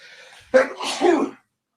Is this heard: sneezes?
yes